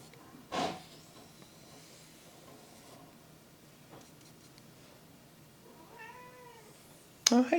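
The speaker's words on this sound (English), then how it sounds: "That's my cat." Pet cat Minnie gives a faint, short meow near the end of an otherwise quiet indoor room, with a few soft scattered clicks and taps around it.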